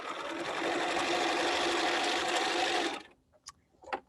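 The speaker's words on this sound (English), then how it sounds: "we'll just do a couple more quilting stitches" A home sewing machine running steadily for about three seconds, stitching quilting lines through a fabric pot holder, close and even, then stopping, followed by a few faint handling clicks.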